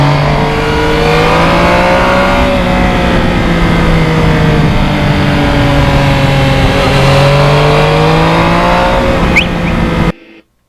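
Yamaha MT-09 motorcycle riding through populated areas, its engine droning loudly and continuously with smooth pitch rises and falls as it accelerates and eases off, plus steady wind rush, cutting off abruptly at the end.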